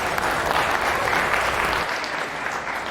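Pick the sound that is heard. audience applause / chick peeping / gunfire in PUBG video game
audience applause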